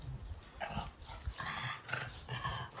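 A dog close by gives low growls mixed with soft whimpers in short, repeated bursts.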